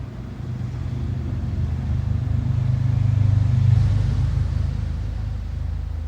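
A vehicle engine rumbles low and steady, swelling slightly louder midway as it goes by, then easing off again without fading fully.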